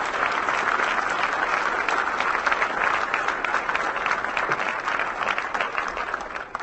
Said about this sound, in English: I think that unknown author deserves a rounding round of applause